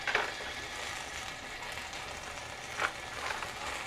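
Minced frozen garlic in a pan gives a soft, steady sizzle with a couple of brief sharper spatters, quiet and close, no voices.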